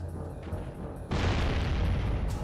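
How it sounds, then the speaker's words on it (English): A cannon fires in the PS2 video game Jak and Daxter: The Precursor Legacy, a sudden loud boom that breaks in about a second into the clip and keeps rumbling broadly to the end. "Oh, I can operate a cannon, I guess?"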